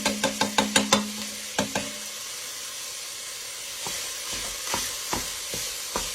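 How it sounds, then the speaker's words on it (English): Italian sausage sizzles steadily in a frying pan while a spatula tears it apart, with a quick run of sharp scraping knocks at the start and sparser utensil clacks later over the constant hiss. "I'm just tearing that sausage up."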